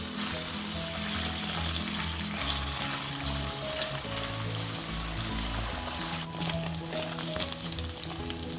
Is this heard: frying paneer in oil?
yes